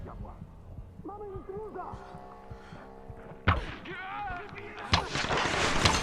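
Gunfire in the Tomb Raider video game: two sharp, loud shots about a second and a half apart stand out against quiet game ambience, with someone talking throughout.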